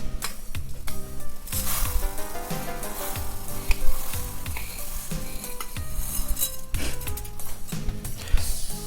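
Vermicelli and rice sizzle and fry together in a hot pan, with steady crackling and repeated scraping and clinking as a utensil stirs them, close and fairly loud throughout.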